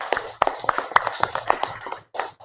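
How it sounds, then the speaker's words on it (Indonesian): A classroom of students clapping for groups 2 and 6, a quick run of sharp, uneven handclaps at close range lasting a couple of seconds with a brief gap near the end. "Yuk kita beri aplaus dulu, tepuk tangan untuk kelompok 2 dan kelompok 6"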